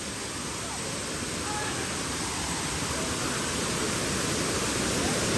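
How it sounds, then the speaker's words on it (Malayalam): Meenmutty waterfall in Kerala roars as rushing water, a loud, dense, unbroken wash of noise that holds steady from start to finish. "വെള്ളത്തിൻ്റെ ശബ്ദം അടിപൊളിയായിട്ട് വരുന്നുണ്ട്."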